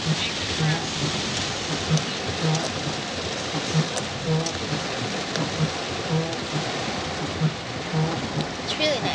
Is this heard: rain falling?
yes